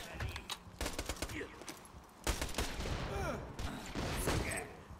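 Pistol gunfire in the shooter game Borderlands 2, rapid repeated sharp shots in uneven bursts mixed with other combat effects, with a voice speaking in places.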